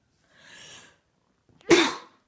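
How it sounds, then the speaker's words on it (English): A person gives a single sharp, loud sneeze close by, preceded by a softer breathy intake. "I'm coughing. I'm sneezing."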